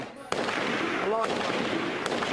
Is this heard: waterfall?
no